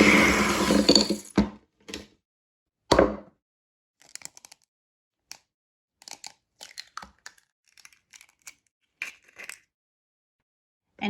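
Soft butter and sugar are mixed in a bowl, giving intermittent short scraping and thudding strokes with gaps of silence between them, one louder burst at the start and quieter taps after.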